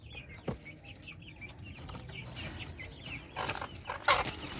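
Brahma hens clucking softly in a farmyard pen, a series of short, low clucks and calls repeating at mid distance, with a louder burst of clucking and rustling near the end.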